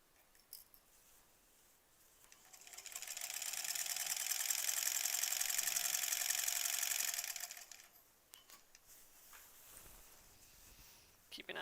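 A sewing machine stitches borders onto a granny squares quilt, running in one steady continuous burst of several seconds, with quiet handling sounds before and after.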